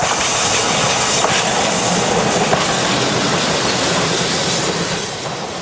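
A British Rail Class 47 diesel locomotive in InterCity livery passes close by, a loud continuous roar of engine and rushing wheels with some clatter, fading slightly at the end.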